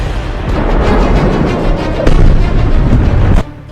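Heavy explosions from war news footage of the Iran-Israel conflict: a dense, continuous roar of booms and blasts with repeated sharp impacts, loud and distorted, ending abruptly with no talk over it.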